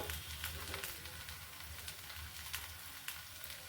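Dill rice roti, patted out on a banana leaf, sizzles steadily on a hot pan, a continuous close frying crackle with a low background hum and occasional brighter pops.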